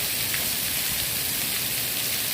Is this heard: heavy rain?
yes